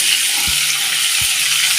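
Cumin seeds and garlic sizzle in hot oil for Pakistani aloo gobi, a steady hiss with two low thumps of stirring, close up and with no talk.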